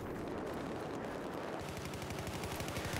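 Gunfire in the Battlefield 4 video game: a loud, dense burst of rapid shots packed into about three seconds, with the sharpest, most rhythmic cracks over the final half.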